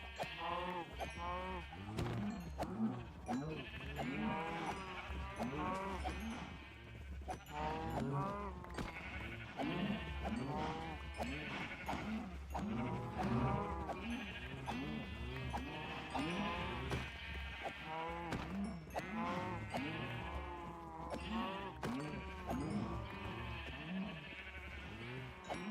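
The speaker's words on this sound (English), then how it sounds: "let's try to save all this sheep from now on" A flock of Minecraft sheep bleat continuously for about 25 seconds, their overlapping wavering cries piling up close and loud with no pause, over a low steady hum.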